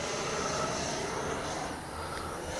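An FMS Avanti S 90mm electric ducted-fan RC jet flies past with thrust vectoring, giving a steady, loud rushing whine that holds throughout with a slight dip near the end, with no voices.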